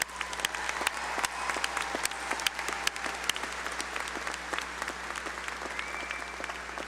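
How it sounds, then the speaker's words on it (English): Sustained applause from a crowd, many hands clapping steadily, with a few louder claps standing out, moderately distant. "Why don't you give them a round of applause?"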